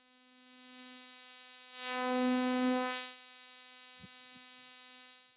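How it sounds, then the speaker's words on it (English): A steady buzzy tone from a modular synth runs through a high pass filter, thin and harmonic-rich, swelling louder briefly in the middle before settling back, with a couple of faint clicks near the end. "This is the high pass filter."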